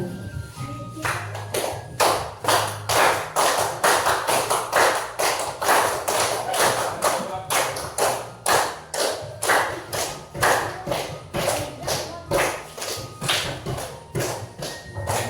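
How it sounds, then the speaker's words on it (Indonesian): Steady rhythmic clapping by a group keeping time along to a song, evenly spaced claps repeating throughout at a moderate distance. "Boleh satu tepuk tangan, gerak-gerak boleh."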